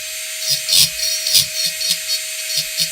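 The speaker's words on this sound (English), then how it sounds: "You use a flexible shaft so that you've got the flexibility. These are dental drills." A dental drill on a flexible shaft carves into wood, a steady high motor whine broken by repeated rasping bursts as the bit bites and lifts, close and loud with no talk.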